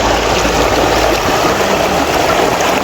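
Stream water rushing steadily near a waterfall on a hillside trail in rain, loud and close, a dense continuous wash with no pauses and no voices.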